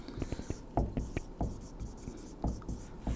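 Marker or chalk strokes on a board during an algorithms lecture sound as short scratchy taps and squeaks in irregular bursts, fairly close and soft, with no clear speech over them.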